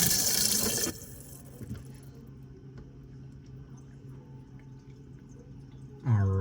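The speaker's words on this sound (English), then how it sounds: "we're going to fill it up a little bit." Tap water pouring loudly into a utensil bin for under a second, then stopping, leaving a low hum and faint drips before another loud rush near the end.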